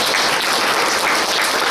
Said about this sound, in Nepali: हामी उहाँहरूलाई एकदमै ठुलो ताली बजाएर स्वागत गर्नेछौँ।